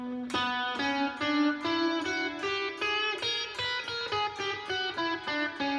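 A guitar plays a minor 6 diminished scale one note at a time, climbing steadily. Each clean, close note rings briefly before the next, with no talking.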